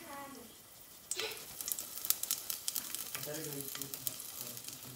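Mustard seeds, red chillies, curry leaves and fenugreek seeds hit hot oil after a quiet moment, bursting into a loud crackling sizzle with rapid popping that continues steadily, close by.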